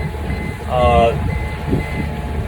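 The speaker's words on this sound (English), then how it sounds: "That was my AIS. It detected there was beeping that detected a ship." A boat's AIS alarm beeps after detecting a ship: one short burst of rapid electronic beeps over steady engine and water noise, loud and nearby.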